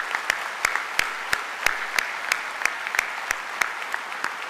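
Graduation convocation audience at BITS Pilani, Goa, applauding parents. Dense, steady clapping from a large crowd with sharper individual claps punctuating it at a fairly regular pace.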